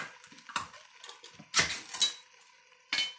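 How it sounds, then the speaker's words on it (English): Two cans of diced tomatoes tipped into a cooking pot, producing a few sharp metallic clanks and wet plops in separate bursts, close and fairly quiet with no talking. "we got a couple cans of tomatoes going in there next"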